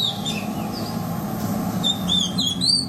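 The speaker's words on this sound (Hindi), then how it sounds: "दरअसल वो ओरिएंटल मैगपाई रॉबिन प्रजाति की चिड़िया है" An oriental magpie robin sings in a village, giving a few bright, clear whistled notes and short chirps over a steady background hum, moderately near with no talking.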